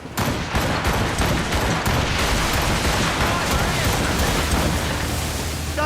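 Naval cannons firing from a sailing ship in Assassin's Creed: a volley of heavy booms bursts in at the start, then settles into a sustained roar of blasts and rumbling that fills the rest of the scene.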